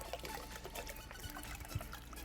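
Water pours steadily into a cooking pot to be brought to a boil, a soft, continuous trickling fill heard at low level against faint room background with no speech.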